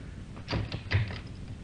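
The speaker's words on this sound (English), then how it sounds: "I'll just open the door" A door being opened in a radio drama, two soft clunks and a scrape of handling at close range, quiet and without talk.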